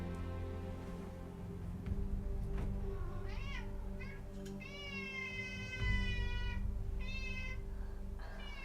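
A cat meows and yowls in a series of loud, drawn-out cries over a steady low background hum, with a few shorter calls in between.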